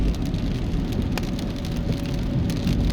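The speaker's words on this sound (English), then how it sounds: "once you're driving in the rain, you know, you just have to watch large pools of water" Heavy rain drumming on a car while driving through Jamaica in the rainy season, a dense, loud, continuous patter over low road rumble, with no voices.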